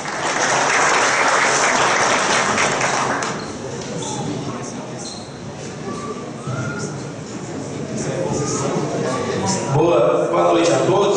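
A city council chamber audience gives a round of applause. The dense clapping is loudest for the first three seconds, then thins to scattered claps and murmuring. Voices and a brief electronic tone follow near the end.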